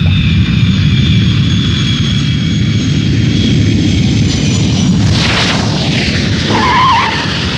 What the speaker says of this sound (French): l'appareil vient de se poser sur la piste C.